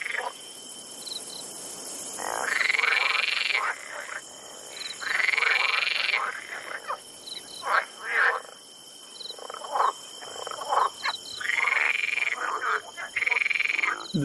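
Frogs croak in a dense chorus of rattling, buzzing trills, with long pulsed calls alternating with shorter choppy bursts, set against a constant thin high drone of crickets or insects.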